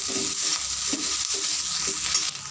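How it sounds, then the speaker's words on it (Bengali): Capsicum pickle with ginger paste stirred in a pan, soft scraping strokes repeating about once a second over a steady bright sizzle, close up with no talking. "তারপরে দিয়ে দেবো আদা বাটা দিয়ে আবারও মিশিয়ে নেবো"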